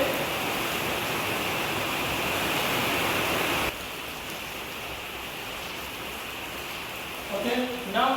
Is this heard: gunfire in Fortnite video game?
no